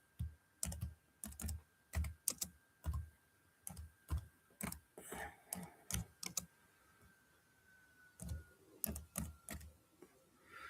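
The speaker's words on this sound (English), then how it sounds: "I'll type." Computer keyboard typing close by, bursts of quick clicking keystrokes with short pauses between them, fairly quiet with no talk.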